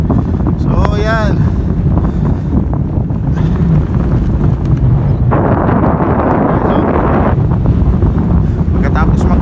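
Strong desert wind at Al Qudra roars across the microphone in heavy continuous buffeting, with brief voices breaking through.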